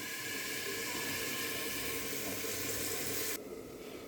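Water poured into a cooking pot for boiling, a steady bright splashing rush that runs continuously for several seconds before cutting off abruptly near the end.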